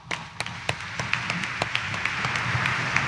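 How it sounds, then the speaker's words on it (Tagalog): A church congregation claps together during a Monday morning Mass at Quiapo Church, a dense, steady patter of many hands that builds and holds without pause, heard from within the crowd. "Ating pong papurihan ang ating pong Jesus Nazareno sa pamamagitan ng isang palakpak."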